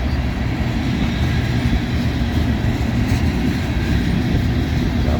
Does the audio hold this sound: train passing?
yes